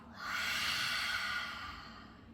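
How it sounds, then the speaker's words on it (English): A long, steady exhale through the mouth during a yoga breathing exercise, a soft breathy rush that swells quickly and slowly fades over about two seconds, close and alone. "Exhale the mouth."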